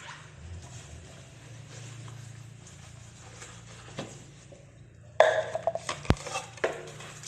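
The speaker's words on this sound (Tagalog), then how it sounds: "Maghuhugas muna ako ng aming pinggan." Dishes are washed by hand: quiet running water and faint splashing at first, then louder close clinks and clatter of plates and utensils in the last couple of seconds.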